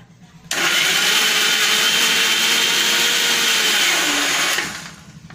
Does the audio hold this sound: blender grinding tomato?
yes